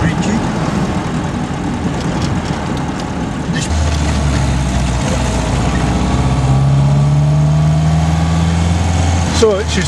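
Alvis Firebird with a synchronous gearbox and speed 20 beam axle chassis driving on the road, its engine a steady low drone with rising tones as it pulls, loud and continuous throughout.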